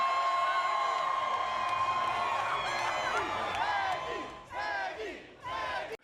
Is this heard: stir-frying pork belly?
no